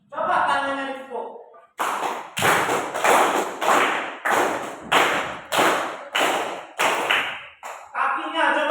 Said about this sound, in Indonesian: Coba tangannya dipukul.